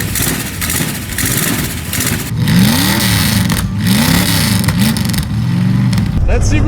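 A big block Plymouth Belvedere engine idles unevenly with a loud header leak, its rough, ticking exhaust note pulsing near the listener while a voice talks over it.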